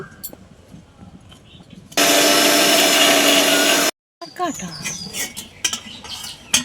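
Ridge gourd peels being ground into a paste in a kitchen mixer, a loud two-second burst of whirring machine noise. Quiet clatter and a voice can be heard before and after it.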